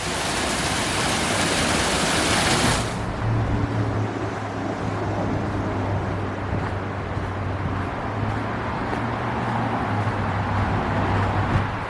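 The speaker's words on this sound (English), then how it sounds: "There's a waterfall." Steady broadband rush of a waterfall beside a walking trail, loud and continuous throughout, with a low, faint hum underneath after the first few seconds.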